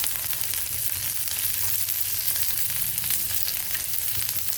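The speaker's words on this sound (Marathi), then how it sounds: "त्याच्यात ना थोडंसं तेल टाकले आता आपण हा लसण टाकून घेऊ" Garlic frying in a little oil in a pan gives off a steady, close, even sizzle that holds throughout, with no talk.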